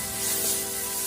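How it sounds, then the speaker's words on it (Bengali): Spices with ginger-garlic paste and salt sizzle in a hot pan, a steady close hiss with no break, for potato paratha filling. "তো আমি এখন মশলাটাকে একটু ভেজে নেব"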